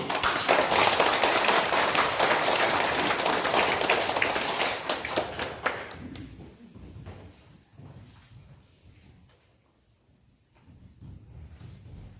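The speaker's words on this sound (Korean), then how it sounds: "박수." Church congregation applauding during a Sunday Mass on lay people's Sunday, a dense burst of clapping for about six seconds that fades out, leaving quiet room noise and faint shuffling.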